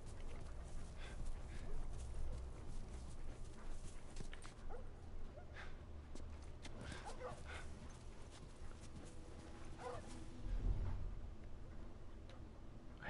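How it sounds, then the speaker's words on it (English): A dog barks in The Last of Us Remastered, giving scattered short yelps and barks at a moderate distance, mixed with footsteps and ambient game noise throughout. "I hear a dog, but I don't see a dog."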